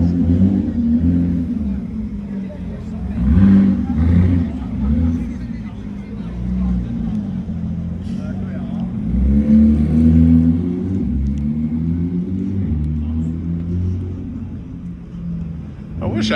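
A modified Lamborghini Urus engine revs with a deep, throaty rumble that rises and falls several times over a sustained idle, with a voice talking over it.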